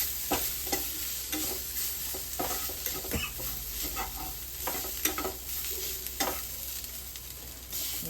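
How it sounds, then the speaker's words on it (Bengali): Chicken meat fries in sauce in a pan over low flame, a steady sizzle broken by repeated scraping stirs of a utensil against the pan, close and clear with no voices. "সস দিয়ে ভালো করে মাংসটা সসের সাথে মিক্স করে নেব।"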